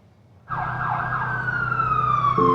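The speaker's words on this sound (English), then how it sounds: "Stephanie Norden saw the ambulance before she heard the phone ring." After a brief quiet moment, an ambulance siren starts abruptly and wails steadily at close range, loud and continuous.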